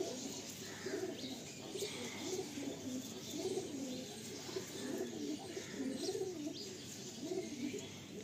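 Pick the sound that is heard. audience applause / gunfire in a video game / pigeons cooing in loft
pigeons cooing in loft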